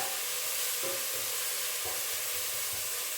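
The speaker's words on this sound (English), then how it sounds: "give a really good stir." Cauliflower soup ingredients being stirred in a hot pan, a steady broadband sizzle of frying throughout with soft scraping strokes of the spoon at intervals, close and continuous.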